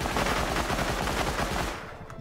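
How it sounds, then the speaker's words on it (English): Rapid automatic gunfire in the survival game Rust, a dense continuous burst of shots that fades away at the end. "Is that you shooting?"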